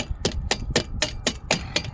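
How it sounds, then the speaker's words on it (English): A handheld hammer strikes metal in a quick, even rhythm, seven or eight sharp close-up blows about a quarter second apart, against a quiet background. "And my trusty hammer."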